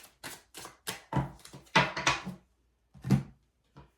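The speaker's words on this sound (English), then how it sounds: "One more shuffle." Tarot cards are shuffled in a quiet room, giving a string of crisp riffling and tapping bursts that come in uneven clusters. The sound is close and fairly soft, with short pauses between the bursts.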